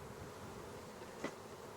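Honey bees buzz around a hive frame as it is slid into place, a soft steady drone with one brief louder buzz as a bee passes near.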